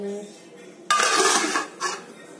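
A spoon scoops vegetable dish from a pot into a bowl, giving a close, bright clink and scrape that lasts under a second, then a second shorter scrape after a brief quiet.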